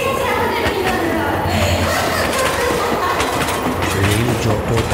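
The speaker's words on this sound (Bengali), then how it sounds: "রেল যত তার দিকে এগিয়ে আসছে" A train rolls along the rails in a cartoon ghost story, with constant rumbling clickety-clack that stays loud and near throughout, and a voice speaking over it.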